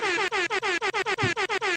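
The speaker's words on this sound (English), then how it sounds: "a little air horn extra there for Okawa" A series of about ten rapid, loud air horn blasts repeats in quick succession as a sound effect, with no talking.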